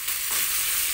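Sausage frying in a pan gives a steady, loud, bright sizzle that runs unbroken for under a second, with no voices.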